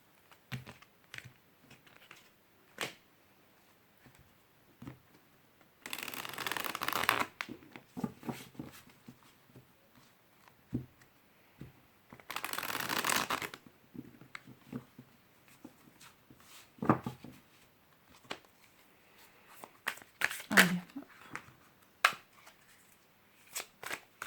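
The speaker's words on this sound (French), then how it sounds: "je prends 6 cartes de l'oracle Rho" Oracle cards being shuffled in two quick bursts of riffling paper, separated by soft taps and card handling, quiet and close with no talk.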